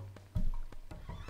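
A metal horse in the Tomb Raider 4 video game lets out a single short neigh, loud and close, over a low game hum.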